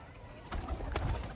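Pet pigeons kept in a rooftop loft coo softly in a couple of short bursts, close by but faint, with no one speaking.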